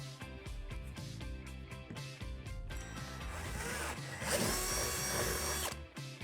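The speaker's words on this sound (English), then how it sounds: "drill out these two holes on the opposite side of the deck." A power drill with a 3/8 bit whirs and bites into the plastic deck of a playset, with the motor pitch shifting and grinding louder toward the end, close up and without speech.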